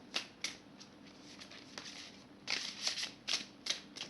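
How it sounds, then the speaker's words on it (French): Oracle cards from the Oracle des Sortilèges deck by Lucy Cavendish being handled and drawn close up, with quick papery flicks and snaps in several short bursts, louder toward the end, and no talking. "Je vais piger une carte"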